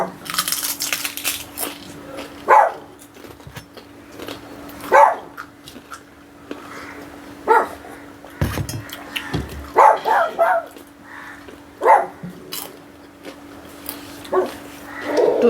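Several dogs bark in irregular bursts at moderate distance over a steady background hum, with sharp yips scattered through the stretch.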